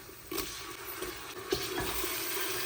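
Tomatoes dropped into a pot of onions, green chillies and spices frying for a bachelor-style rajma, producing a steady close sizzle with a couple of soft thuds as they land.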